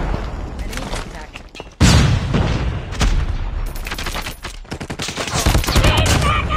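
A grenade blast in the war game Krig bursts loud and close amid steady rapid gunfire. Shots crackle on through the clip while voices call out over the battle.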